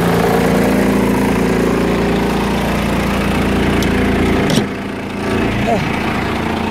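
A 1988 Blue Bird International S1800 bus engine idling just after a cold start, a loud, steady, slightly rough diesel rumble close by that dips briefly near the end, with a person speaking over it.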